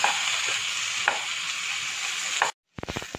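Bellary-style beef being stirred in a hot pan makes a steady frying sizzle with a few soft spatula scrapes, then a brief silence followed by a quick burst of sharp clatters.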